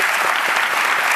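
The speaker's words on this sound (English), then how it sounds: "Can I just get a little round of applause for that?" A crowd at an ocean-conservation event on marine life and ecosystems applauds, with steady, dense clapping holding evenly throughout the short burst and no voices over it.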